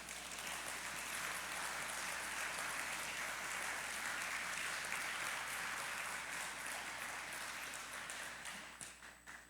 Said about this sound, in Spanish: Le puedes dar un aplauso al Rey por ello.